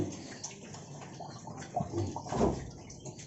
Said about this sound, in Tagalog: inom na lang sila ng tubig